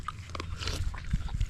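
A dog eats leftover food outdoors on a farm where food was being cooked. It makes wet chewing, snuffling and crunching bites in quick irregular bursts, close by, with no talk.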